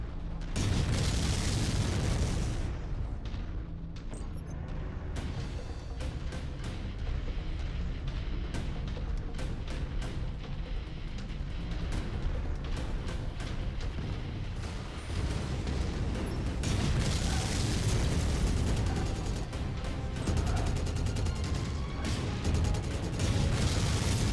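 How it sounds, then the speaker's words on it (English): A MechWarrior 5 mech's reactor explodes amid a sustained, dense roar of mechanical grinding and booming blasts that stays loud throughout, swelling again near the end. "Reactor explosion imminent."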